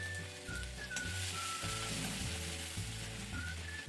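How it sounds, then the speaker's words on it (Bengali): Whole spices (cloves, cardamom, black peppercorns, bay leaf and dried chillies) crackle and sizzle in hot oil, a dense close frying hiss with a faint whistling tone running over it. "লং, এলাচ, গোলমরিচ ফোড়ন দিচ্ছি"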